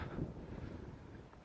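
Wind gusts across open heathland on Ashdown Forest, buffeting the microphone as a steady low rumble for a brief moment.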